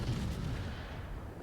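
Naval guns of the battleship USS Massachusetts firing at a cruiser in World of Warships, a heavy low boom at the start that rolls off into a long rumbling decay, loud and alone without talk.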